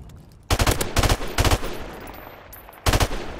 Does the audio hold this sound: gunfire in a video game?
yes